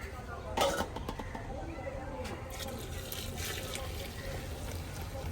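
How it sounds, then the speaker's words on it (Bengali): Water poured into a large pot of beef biryani with rice gives a steady close trickle and splash over low background noise. "এই পর্যায়ে দিয়ে দেবো আমি পানিটা"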